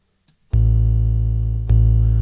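A distorted 808 bass synth patch built from the Flux wavetable synth in Halion Sonic SE plays two sustained, heavy low notes, the second retriggered, loud and alone.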